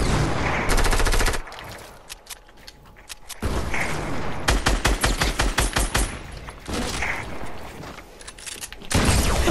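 Gunfire in a shooter video game comes in loud rapid bursts and single heavy blasts, separated by quieter gaps with mechanical rattles, close and dominant with no talk.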